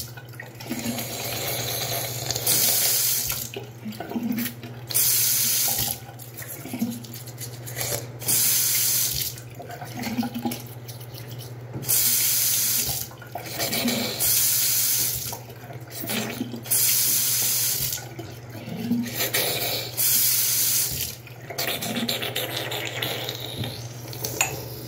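Hot water runs from a tap into a sink in a steady, fairly close stream that cuts in and out in repeated bursts, with faint clinks between the flows.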